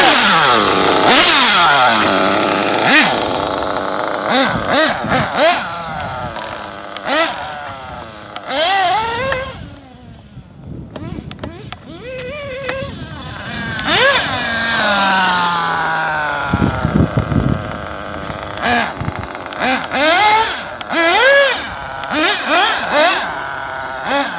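A modded Mugen RC car motor revs up and down while warming up, sharp rising and falling whines coming in repeated bursts with short pauses, loud and close, with a few brief voices between.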